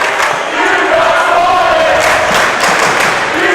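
A basketball crowd at a Placer Hillmen versus Foothill Mustangs game roars and cheers loudly and continuously after a blocked shot, with the cheering swelling near the middle.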